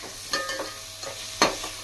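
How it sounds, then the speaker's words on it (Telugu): Sliced onions fry in a pan for Hyderabadi dalcha, a soft sizzle punctuated by a few scraping stirs of a spoon, close and fairly quiet with no talk. "ఆనియన్ ఫ్రై అవుతున్నాయి"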